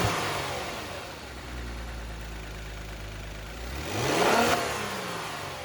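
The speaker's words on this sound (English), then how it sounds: "we will open up the hood and see what the regular air intake sounds like" Kia Stinger engine with its stock air intake, idling then revving up in one loud swelling rise near the end, close by under the open hood.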